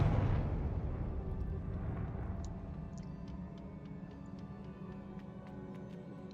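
A fire spell explosion in Hogwarts Legacy bursts with a heavy, loud boom at the start, then decays into a long low rumble with faint crackling ticks fading over several seconds.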